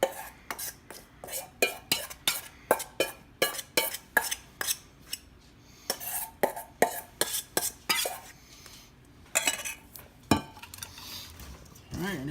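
Kimchi ingredients get mixed in a bowl, giving a quick run of sharp clinks and scrapes from a utensil against the bowl, close by, with brief pauses between bursts.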